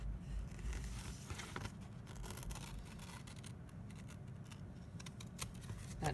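Scissors snip colored paper, trimming small bits from a mosaic portrait, with steady close cutting and crinkling handling sounds throughout, no talking.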